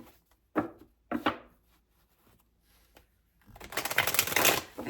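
Tarot cards are shuffled by hand: two sharp separate riffles near the start, a quiet pause, then a longer rapid burst of flicking and rustling cards close to the microphone.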